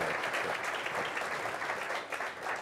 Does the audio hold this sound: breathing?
no